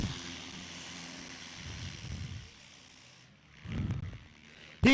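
A propeller airplane's engine drones during a short-landing contest at an airfield, a moderate, somewhat distant low hum that swells and fades, with a brief louder rumble near the end.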